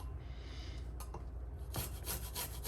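Raw garlic grated on a fine rasp for a tomato and snap pea salad, faint scraping strokes that grow more distinct toward the end, with no talk.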